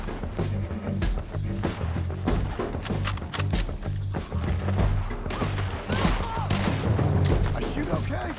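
Gunfire in Red Dead Redemption 2, rapid bursts of shots with booming impacts over a rumbling game soundtrack, a voice briefly talking beneath.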